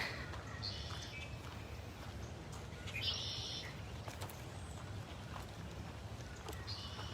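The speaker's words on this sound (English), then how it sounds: "It's a pretty day, lots of birds singing." Birds sing on a pretty morning at a big cat rescue sanctuary, a few faint, brief chirps and whistles from the distance over a low steady outdoor rumble.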